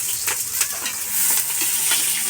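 Onion sizzling in a pan for goat kaldereta, bright continuous frying hiss with repeated stirring scrapes and taps nearby.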